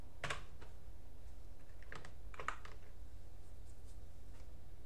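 Computer keyboard typed on in a quiet room while entering a checksum command on a Linux system: a few quick, soft key clicks in small bursts, fairly close, no talking.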